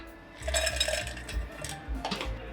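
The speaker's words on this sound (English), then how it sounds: "Fill our red wine glass with ice." Ice cubes tumble into a red wine glass while a pomegranate punch is built at a bar, giving several close, bright clinks and clatters over a couple of seconds.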